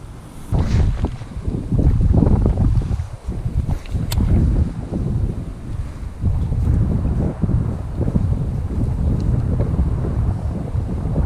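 Strong gusty wind buffets the microphone outdoors at a remote fishing spot, a continuous loud rumbling roar that rises and falls in bursts for the whole stretch, with no voices.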